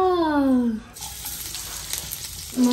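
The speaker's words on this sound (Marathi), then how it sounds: "तेल आपण घेतलेलं आहे ते थोडंसं गरम होऊ दे, मग आपण त्याच्यात टाकूया लसूण ठेचलेला" Crushed garlic sizzles in hot oil for a Konkan-style oyster dish, a steady frying hiss between short stretches of speech.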